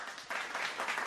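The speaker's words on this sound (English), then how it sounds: "he deserves a round of applause for that" Applause from a crowd for West Ham player Oliver Scholes, a steady wash of clapping that swells after a brief dip and holds through to the end.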